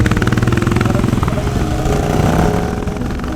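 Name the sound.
motorcycle engine shifting into third gear during wheelie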